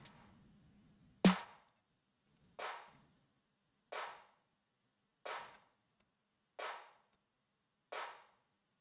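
Trap snare made in Serum with a compressed tail, six crisp snare hits spaced about one and a half seconds apart, the first loudest and the rest evenly punchy with short decaying tails.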